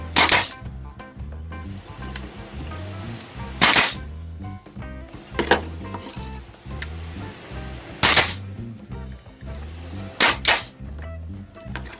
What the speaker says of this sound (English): That is the loudest air gun I've ever used, the loudest air nailer I've ever used.